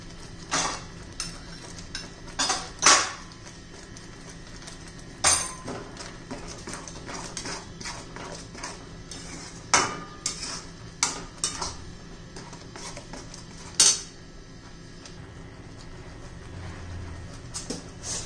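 Cluster beans being stirred and sautéed in a pan for a spicy green-masala gavar bhaji, with a spatula scraping and clinking against the metal at irregular intervals, close and fairly loud, with no talking.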